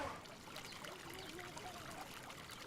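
Water trickles and pours steadily through open sewer channels in a village. The flow is continuous and fairly soft, with a faint voice or background murmur underneath.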